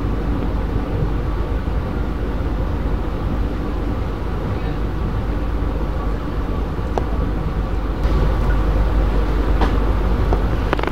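A Kamandaka passenger train idles at Krupuk station in the morning with a steady, loud low rumble, with faint clicks and indistinct background activity on top.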